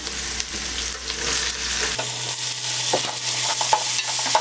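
Tomatoes tipped into sautéed onions and curry leaves in a pan for an egg curry, a steady close sizzle of frying with stirring scrapes and a brief clatter as they go in.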